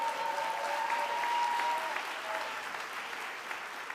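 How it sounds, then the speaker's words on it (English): A school convocation audience applauds a drummer, broad steady clapping from a large crowd that gradually fades, with a faint sustained tone early on. "give him a round of applause"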